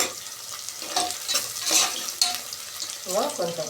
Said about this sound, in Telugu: ఉల్లిపాయ పచ్చిమిర్చి ఫ్రై అయినాయి